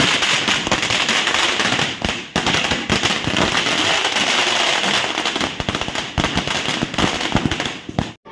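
Firecrackers burst continuously at the Ganpati Aagman procession for Girgaon Cha Raja, a loud, dense barrage of cracks and pops with brief gaps, close by.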